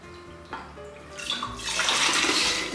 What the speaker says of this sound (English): I'm gonna add the 5 cups of water.